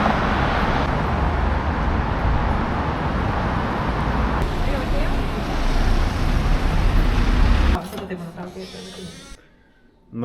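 Steady, loud roar of buses and traffic on a busy street in a large European capital fills the scene, then drops away sharply near the end to a quieter background.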